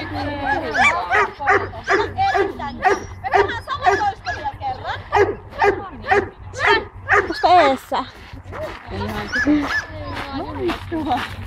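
A dog, Jenna, barks and yips intermittently during an outdoor obedience training session, the short calls mixed in with a handler's near, continuous speech giving commands and praise.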